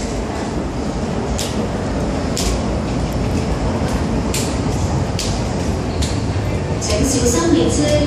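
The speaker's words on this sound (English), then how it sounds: "The train to 荃湾 is arriving." An MTR M-Train on the Tsuen Wan line runs into Admiralty station, a continuous broad rumble under a platform announcement, with sharp metallic clicks and squeals, louder toward the end as it arrives.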